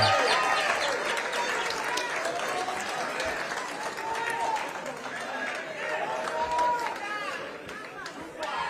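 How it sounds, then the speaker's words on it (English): A large rally crowd applauds Raila Odinga, dense sustained clapping with cheers and whistles rising and falling over several seconds, loud and close throughout. "Another loud of applause for Baba wa kila mtu."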